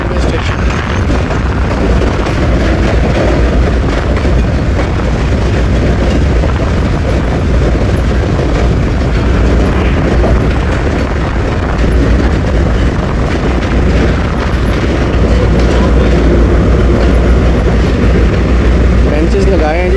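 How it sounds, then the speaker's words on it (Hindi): Pakistan Railways 2 Down shuttle train of four coaches pulling into Dinga railway station, a steady loud rumble and rolling clatter throughout with a voice speaking over it. "डिंगा रेलवे स्टेशन पे पहुंच रही है 2 डाउन शटल ट्रेन"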